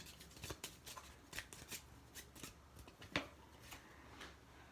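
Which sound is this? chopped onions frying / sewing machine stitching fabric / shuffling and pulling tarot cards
shuffling and pulling tarot cards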